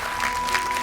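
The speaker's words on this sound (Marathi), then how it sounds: "एकदा जोरदार टाळ्या झाल्या पाहिजे." Brief burst of applause from a studio audience on a Marathi television show, steady clapping over a faint tone.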